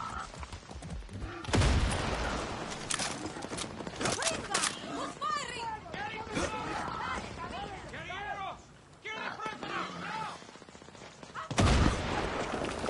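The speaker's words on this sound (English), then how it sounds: "Damn, someone's trying to shoot me." Gunfire and explosive bursts in the video game Far Cry 6, with loud blasts near the start and end, plus hoofbeats and horse whinnies amid the game audio, while someone talks over much of it.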